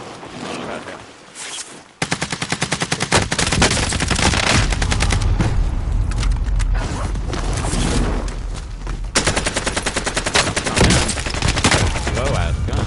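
Rapid gunfire in the game Warzone, loud sustained bursts of automatic shots starting abruptly after a quieter opening and continuing with brief gaps, close and dense, with no speech over it.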